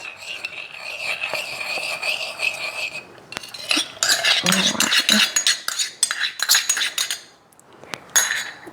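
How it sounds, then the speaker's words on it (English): A measuring cup clinks and knocks against dishes and utensils nearby, a run of bright clattering taps with brief pauses between bursts. "that was just a measuring cup"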